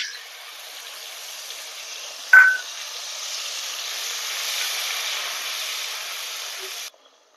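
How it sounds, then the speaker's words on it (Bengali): Onion paste hits hot oil tempered with whole cumin, giving a steady, bright sizzling hiss with one brief clatter early on, before the sizzle cuts off abruptly near the end. "এই সময় আমি দিয়ে দেবো বেটে রাখা পেঁয়াজ।"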